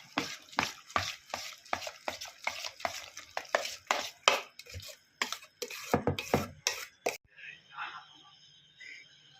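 Cumin, turmeric and coriander are mixed in a pot with a rapid run of rhythmic scraping strokes, loud and close, which stop abruptly and leave a quiet background.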